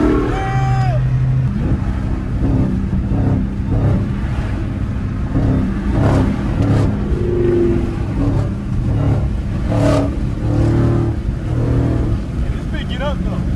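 A Dodge Challenger Demon Hellcat engine roars loudly and continuously, revving up and down with a deep, steady drone, while people talk over it close by.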